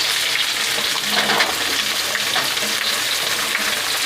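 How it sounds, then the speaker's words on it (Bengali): Bitter gourd and other vegetables fry together in hot oil in a pan for a spicy chochchori, giving a loud, steady sizzle with faint stirring and no speech. "এবার আমি ভাজতে শুরু করলাম। বেশ কিছুক্ষণ ধরে এটা ভালো করে কষে নিতে হবে।"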